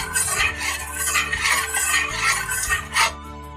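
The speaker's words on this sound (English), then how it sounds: "Stir that in." An au jus being stirred in a pot: steady scraping and clinking of a utensil against the pot, running continuously with a louder knock near the end, no talk over it.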